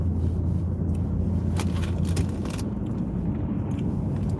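A car driving to work on a cold, below-freezing morning gives a steady low road rumble and engine drone throughout, with faint rattles and scrapes inside the cabin.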